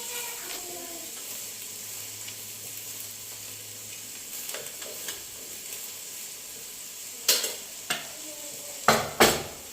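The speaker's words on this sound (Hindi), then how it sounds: "तो मैंने इसमें डाल दिए सारे मसाले अपने, नमक, मिर्च, हल्दी, जीरा, और अच्छे से अब इसको मैं चला रही हूँ" A cooking pan of tomatoes with salt, chili, turmeric and cumin being stirred, soft steady sizzling underneath with a few sharp scraping clinks of a spoon against the pan near the end.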